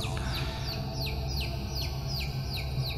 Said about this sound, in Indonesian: jika mendengar suara anak ayam di malam hari